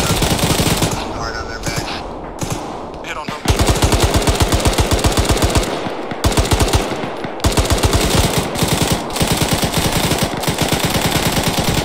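Rapid machine gun fire in the Arma 3 video game, long sustained bursts of tightly spaced shots broken by brief pauses, loud and close, with occasional voices mixed in.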